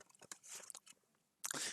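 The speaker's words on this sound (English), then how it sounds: "I am very sorry if you hear me chew." A burger and chips are chewed close to the microphone, with wet crunchy bites and munching in short bursts ending in a louder crunch.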